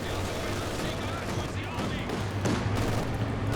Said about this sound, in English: AT gun's actually getting shredded here by the MG42